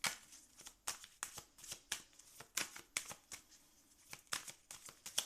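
Tarot cards are shuffled close up in a quick, rhythmic series of crisp papery riffles and snaps, about a dozen bursts over a few seconds. No voice over them.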